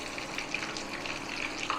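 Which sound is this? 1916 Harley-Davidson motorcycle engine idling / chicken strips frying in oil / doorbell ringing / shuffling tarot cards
chicken strips frying in oil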